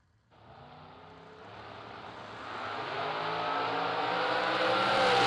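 A topless Corvette at a drag race launches and accelerates hard, its engine note building steadily louder and rising in pitch over several seconds, heard from a distance with no talk.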